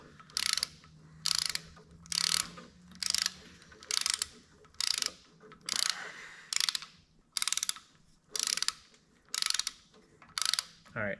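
Ratchet wrench cranking down engine bolts on a Farmall 300 tractor during a rebuild, a steady series of about ten rapid clicking bursts in even rhythm, close and clear with no talk.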